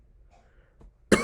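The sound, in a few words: cough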